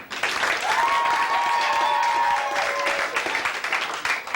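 A comedy club audience at an improv show applauds steadily for a few seconds, a dense wash of clapping with a brief whoop or cheer rising in the middle, then tapering off.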